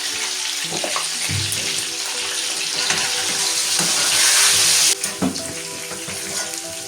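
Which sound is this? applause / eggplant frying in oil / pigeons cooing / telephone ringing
eggplant frying in oil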